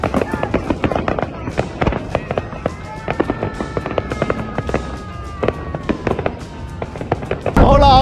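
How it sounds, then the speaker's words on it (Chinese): A fireworks display at the Calgary Stampede fills the air with rapid, dense bursts of crackling pops and booms, some with whistling trails, while people talk and exclaim nearby. "终于可以挨到晚上十一点睇烟花"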